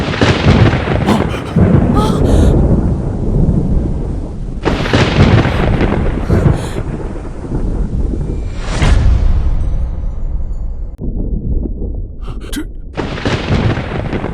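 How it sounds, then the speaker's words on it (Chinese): Heavy thunder crashes in several long rolling bursts, loud and close, each booming clap fading into a rumble before the next one breaks. "他真的号令雷电！"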